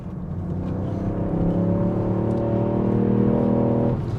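A Ford Puma ST engine revs steadily while driving, a smooth rising hum and whir from inside the cabin that holds near and moderately loud for a few seconds before easing off.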